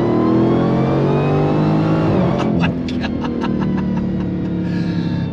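A 2023 Dodge Challenger Demon 170 V8 engine drones steadily, then the throttle is blipped in a quick series of sharp revs, loud and close with no talking.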